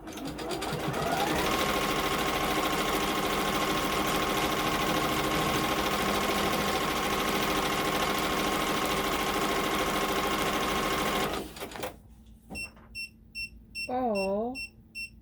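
An embroidery machine stitches a haunted house design, a loud continuous mechanical whir with a steady stitching buzz that stops abruptly, followed by a few beeps and a brief voice.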